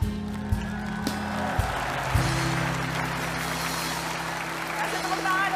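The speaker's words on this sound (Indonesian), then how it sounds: "Kasih tepuk tangan untuk Ikan dan Ben" An audience claps steadily in a television studio to welcome the host, a dense sustained applause under a presenter's voice and music.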